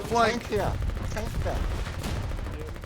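Gunfire in the war video game Foxhole, with players firing on an enemy trench: steady rapid shots and distant battle noise run throughout, while a voice speaks over the opening second.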